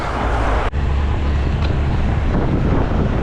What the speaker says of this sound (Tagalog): Lakas kasi yung hangin.